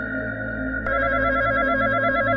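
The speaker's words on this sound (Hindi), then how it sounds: "घंटी की आवाज फोन से नहीं, शमशान के अंदर से आ रही है।" A telephone bell rings steadily and loudly for the whole stretch, with a slight shift in tone partway through, heard in a horror tale set at a cremation ground during a night pizza delivery.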